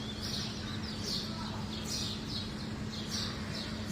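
Pet pigeons call in soft repeated coos and chirps over a steady low hum, somewhat distant and faint, with no clear speech.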